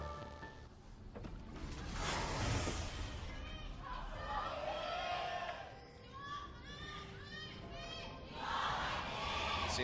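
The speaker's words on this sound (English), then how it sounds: "Seems like the ROX Tigers side of the audience has been populated now, not just the one person cheering for the squad." Esports arena crowd at a 2017 LCK League of Legends match between ROX Tigers and SK Telecom T1, cheering and shouting in sustained rising waves that fill the hall throughout, with a caster's voice talking over the noise.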